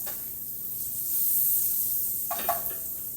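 Butter melting in the bottom of a skillet gives a steady, soft sizzling hiss that swells and then eases. Near the end come a couple of brief, sharper crackles.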